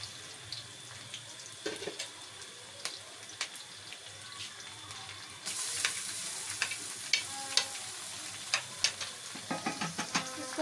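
Garlic-ginger paste hitting light-browned onions in a hot pan for a bottle gourd curry, crackling and sizzling steadily with sharp pops and spoon-stirring clicks that grow louder and denser partway through, no voices.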